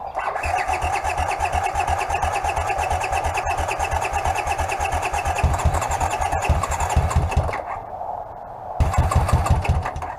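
A cold Honda CX motorcycle engine starting up, cranking into a rough, pulsing mid-pitched idle that runs steadily, dips briefly as it nearly stalls, then catches again and keeps running loudly up close.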